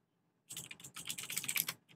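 Rapid, dense clatter of a computer keyboard being typed on fast, a continuous burst of crisp key clicks lasting about a second and a half after brief silence.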